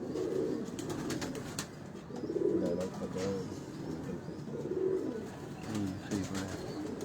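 Pigeons on a Lahore rooftop coo in soft, repeated low rolling phrases, several bouts rising and fading over seven seconds, with faint sharp outdoor noises and a little background talk.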